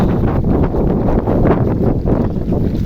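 Strong wind buffets the microphone in rough, roaring gusts during severe flooding in Burichang, Cumilla, with a low rumbling surge that rises and falls throughout.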